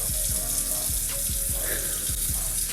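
Water runs from a tap in a loud, steady rushing stream, close and continuous, with faint splashing and no talk.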